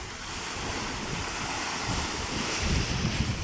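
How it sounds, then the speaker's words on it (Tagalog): Steady roaring surf and strong gusting wind on a beach fill the air, a dense broadband wash of ocean noise with wind buffeting the microphone. "Nalakas pa nga hangin. Talagang malamig dito sa Dalampasigan."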